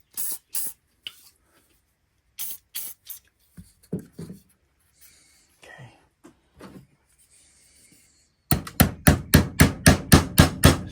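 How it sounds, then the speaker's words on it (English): Several short hissing bursts of oil spray from an aerosol can in a knife shop, then a fast run of about a dozen evenly spaced hard taps or knocks near the end. "Spray a little oil."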